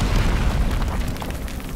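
C4 charges detonating in Black Mesa, a loud, deep, rolling explosion that booms up front and then rumbles away over under two seconds.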